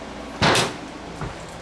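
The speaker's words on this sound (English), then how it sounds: "I can open my back door like that." Back door of a newly fitted house opening close by: a sharp unlatching clunk and swing, followed a moment later by a softer second knock.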